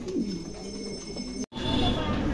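Soft, throaty coos of exhibition homer pigeons repeat near the microphone against a steady background hum, broken by a brief dropout partway through.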